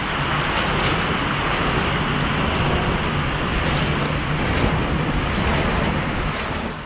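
Wind turbines in the Lévezou countryside give off a steady, droning engine-like hum, a broad continuous whoosh that holds constant throughout without pause.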